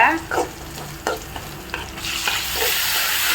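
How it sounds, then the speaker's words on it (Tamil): Tomatoes sautéed in a pan for spinach kadayal, loud scraping stirs and clanks at the start, then a steady close sizzle that swells toward the end. "தக்காளி நல்லா வதங்கணுங்க."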